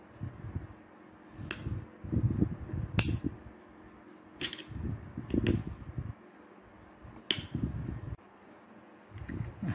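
Two flat-blade screwdrivers pry at a tight plastic DVR power adapter case, giving sharp intermittent clicks and snaps a second or so apart over soft scraping and handling noise, close up with no talking.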